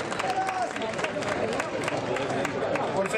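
At the 2015 Balzan village festa, a crowd gives steady, dense applause for band director Raymond Cremona, continuous clapping with some cheering and background crowd noise throughout.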